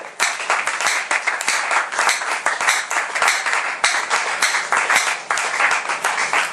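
A church congregation applauds, dense continuous clapping from many hands with a rhythmic pulse, loud and close, with no talking over it.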